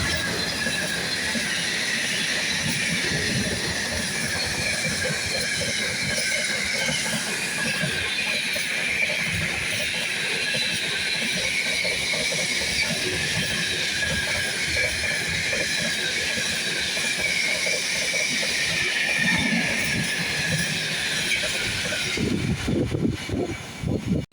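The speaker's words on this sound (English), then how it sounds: "755-422 on a Great Anglia service to Bury Edmunds" Greater Anglia class 755 passenger train passing at Stowmarket, a loud sustained rumble and hiss of wheels and carriages with clicking rail joints, close by, fading abruptly near the end; no talking.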